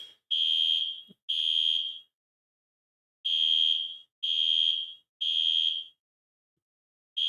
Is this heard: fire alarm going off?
yes